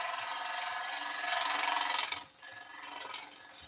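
Knotty wood being turned on a lathe into a staircase spindle gives a harsh, rasping scrape that swells and then drops off, with faint irregular knocks underneath; close but fairly quiet.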